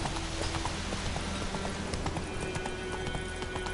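Roach the horse's hooves clip-clop steadily in The Witcher video game, a continuous rhythmic trot with no talking over it.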